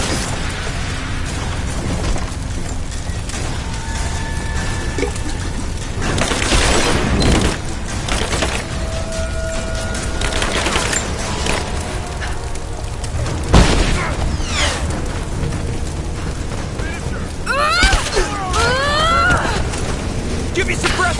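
Explosions rumble and burst through a collapsing location in Rise of the Tomb Raider, repeated booms and sharp pops with shattering debris over a dense din, while voices shout at points.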